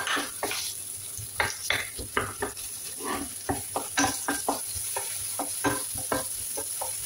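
Onion goes into a pan of frying ginger and sizzles steadily, while repeated stirring strokes scrape and clink against the pan close by, with no talking.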